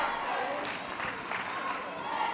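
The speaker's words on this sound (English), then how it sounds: "you can hear the Let's Go Vansen chants" Wrestling crowd at an FWA versus All Star Wrestling show chanting in unison, a dense, steady roar of many voices with rhythmic swells, heard from within the arena without any nearby speech.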